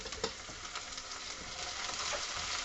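Garlic frying in a hot pan while being browned for carrot soup, a steady close sizzle with a few brief clicks and scrapes near the start.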